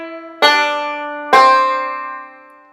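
Banjo playing a phrase from Kansas City Railroad Blues, two bright plucked attacks a second apart, each ringing out and slowly decaying, close and alone.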